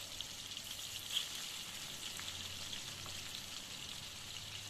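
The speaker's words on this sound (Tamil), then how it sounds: "மசாலா தடவி வச்ச சிக்கனை எல்லாம் அழகாக போட்டு ஃப்ரை பண்ணலாம்" Masala-coated chicken fries in oil with a faint, even sizzling hiss that holds steady throughout. A tiny pop rises above it once, and there is no talking.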